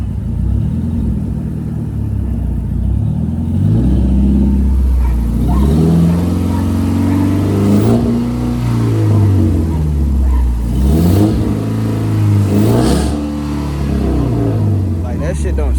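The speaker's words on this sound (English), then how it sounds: "let me rev it up" A Hemi 5.7 V8 that seems off revs up repeatedly, its engine note rising and falling in several surges with a loud, close idle between them and a voice talking over it.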